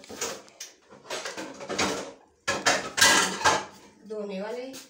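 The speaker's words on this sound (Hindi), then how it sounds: "अभी साथ में किचन के बर्तन रखते हैं" Kitchen dishes, pots and cutlery clatter and clink as they are put away in a home kitchen, with a drawer or cabinet sliding, in a series of close, irregular knocks and rattles.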